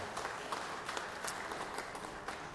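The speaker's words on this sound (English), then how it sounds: "Let's give them a round of applause there." Applause for the pages in the Georgia Senate chamber, a steady wash of clapping that stays moderately soft and distant for the whole stretch without pause.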